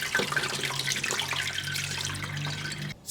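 Vegetables are rinsed under running tap water in a sink, a close, steady splashing rush with small drips and clatters that cuts off abruptly near the end, with no voices.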